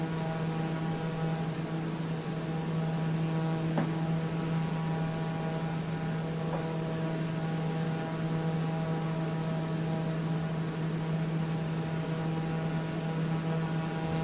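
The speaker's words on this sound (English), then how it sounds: "Pretty cool aircraft, eh? Pretty fast." A Black Square TBM 850 turboprop in flight in Microsoft Flight Simulator, a steady droning engine hum held evenly throughout without a break.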